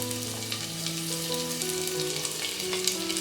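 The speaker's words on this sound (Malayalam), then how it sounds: "പച്ചമുളകും സവാളയും ചേർത്ത് നല്ലതുപോലെ വഴറ്റി കൊടുക്കണം." Onions and green chillies sautéing in a pan for a Kerala potato curry, giving a steady, close sizzle and frying hiss with faint stirring scrapes throughout.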